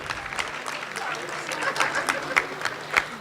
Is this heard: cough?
no